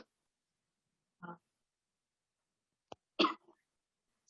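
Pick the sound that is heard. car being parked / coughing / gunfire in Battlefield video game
coughing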